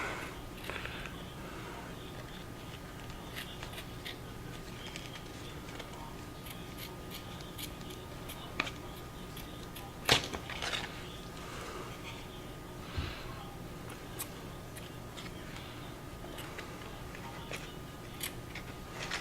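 Scissors snip blindfold fabric folded over glue, giving quiet, scattered crisp cuts with one sharper snip in the middle against a hushed room, with occasional soft voice nearby.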